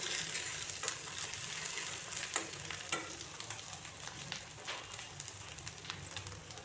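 Masala spice paste sizzles as it is sautéed in a pan for a duck egg curry, a soft continuous frying hiss broken by occasional sharper crackles and stirring scrapes, close and quiet with no speech.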